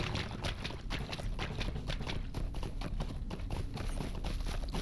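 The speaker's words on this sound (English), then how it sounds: "We're just going to try to hoof it out of here as quickly as we can without getting critted off our horse." Horse hooves clopping on a road in the video game Lord of the Rings Online, a steady galloping rhythm of close, loud hoofbeats running continuously without pause.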